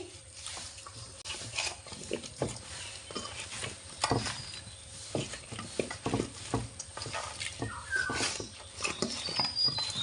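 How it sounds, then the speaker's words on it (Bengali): Mango pieces are tossed together with turmeric, chili powder and salt, making close, irregular bursts of soft wet clatter and squelching scrapes at a low level. "সব মশলার সাথে আমগুলোকে ভালোভাবে মিশিয়ে নিচ্ছি"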